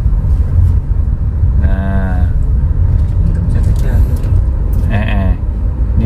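A city traffic jam in Semarang crawls stop-and-go up a hill. Engines rumble in a constant low drone, and brief horn-like tones rise above it while a voice talks over the noise.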